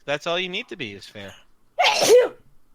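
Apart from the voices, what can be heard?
sneeze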